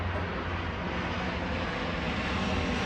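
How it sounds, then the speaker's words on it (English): A FedEx airplane flies in to land overhead, making a loud, steady engine roar that fills the scene without a break. No one speaks. "Of course an airplane's going to come in for a landing just as we're making a video."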